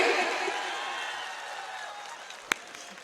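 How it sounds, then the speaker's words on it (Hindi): Audience applause at a Hindi hasya kavi sammelan comedy poetry show, a dense wash of clapping that starts loud and slowly fades over a few seconds, with one sharp knock near the end. "सारे लोग ताली बजाओ नहीं तो चूड़ी यही अटकी रहेगी।"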